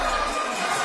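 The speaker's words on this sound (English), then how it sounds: "this crowd is absolutely electric" A crowd at an NFC 131 MMA fight cheers and roars loudly, a dense, sustained wash of voices filling the brief moment.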